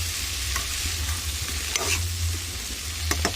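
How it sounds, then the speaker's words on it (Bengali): A spatula stirs and mixes food in a cooking pan over a steady low sizzle, with a few scraping strokes standing out; no one talks. "এবার ভালো করে নাড়বো সব একসাথে মিশিয়ে নেবো।"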